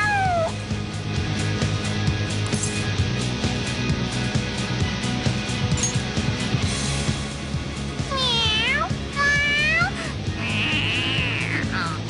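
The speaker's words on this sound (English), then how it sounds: "The cat's acting awfully excited." A cat meows in the Persona 5 video game, giving several sharp, rising cries near the end over a steady bed of game music.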